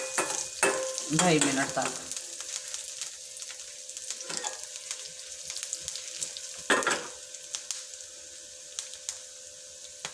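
Grated carrot halwa roasting in a pan and being stirred, soft scraping and gentle sizzling in a few short strokes, fairly quiet, with someone speaking briefly.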